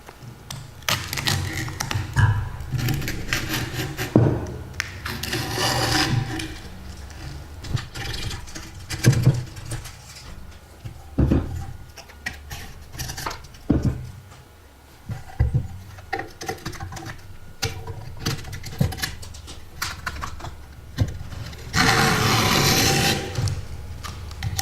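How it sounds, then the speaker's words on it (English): Razor blade slicing skateboard griptape along a filed deck edge: repeated scratchy, rasping cuts with taps and thuds of handling, close and fairly loud, some strokes longer and brighter. "we're gonna take our razor blade, remembering to be super careful, and we're gonna cut along our filed edge"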